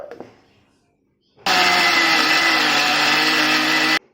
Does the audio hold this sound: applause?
no